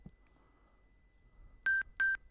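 Two short, clear electronic tones in quick succession sound through a motorcycle helmet headset as a phone connects, following a quiet stretch.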